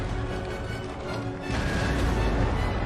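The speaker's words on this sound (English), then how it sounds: "But don't tell me that cannon's still going to fire here." Cannon fire booms through a siege in Empire: Total War, a Great Britain campaign, in dense continuous battle noise that swells louder partway through, with no speech.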